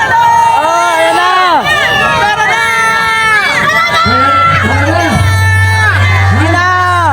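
A large crowd at a rally in Liwasang Bonifacio shouts loudly and continuously with raised voices and whoops. The cheering is dense and close, and a steady low drone sits underneath through the second half.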